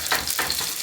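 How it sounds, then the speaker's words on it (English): Salmon frying in a pan for an escoveitched fish dish gives a steady, close hiss and crackle with a few louder bursts of spatter, and no one talks over it. "I'm just going to fry this for 5 more minutes."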